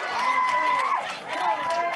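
A crowd at a 1986 World Championship Wrestling match cheering and shouting steadily, loud and lively, with a commentator's voice talking over it.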